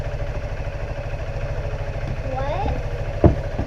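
A Honda motorcycle engine idling during a bike build, a steady low chugging throb close by, with a brief sharp clank near the end.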